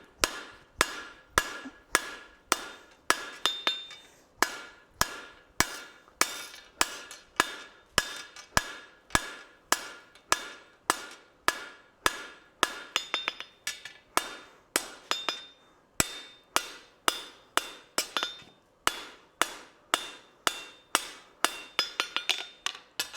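Steady, evenly spaced hammer blows ring out on hot steel at an anvil while a bar is drawn out into a long 12 to 14 inch taper, each strike a sharp metallic clang with a bright ringing tail, no voices.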